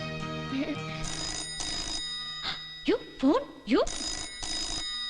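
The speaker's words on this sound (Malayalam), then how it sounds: "ആരേലോ ഫോൺ എടുക്ക്." A telephone bell rings in repeated loud bursts indoors during a family meal, with voices talking between and over the rings.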